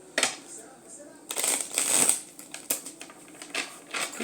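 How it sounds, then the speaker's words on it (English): Quick riffling and slapping of cards being shuffled, several bursts close by, with faint background noise between. "quick mix shuffle."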